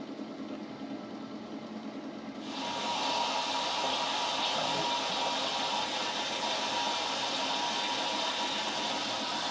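Whirlpool ND50T122-403 water heater being flushed through its drain, water suddenly rushing out in a steady, loud, broadband gush that continues unbroken after a quieter start.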